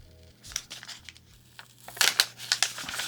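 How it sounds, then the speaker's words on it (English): Tape-stuck photo card being pulled off paper, a run of dry crinkling and tearing rasps that grow louder and sharper toward the end, close up with no talking. "Let's try to remove this card from the paper."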